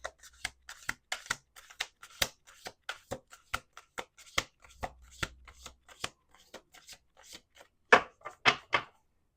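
A deck of cards is riffled and snapped in quick rhythmic bursts, crisp and close, with a louder flurry of shuffles near the end.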